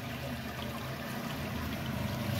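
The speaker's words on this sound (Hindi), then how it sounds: "ये एक पाइप जैसे एक बगल से आ रहा पानी इसमें" Water runs from a pipe into a concrete toilet chamber tank, a soft, steady trickle and gurgle, faint and continuous with no speech.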